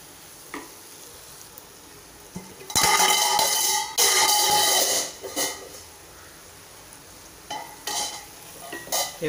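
Cluster beans frying in a pan are stirred, with a steady sizzle broken by loud bursts of scraping and hissing in the middle and short stirring strokes near the end; close and alone, no talk.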